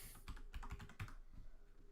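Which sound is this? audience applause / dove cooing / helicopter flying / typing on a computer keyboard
typing on a computer keyboard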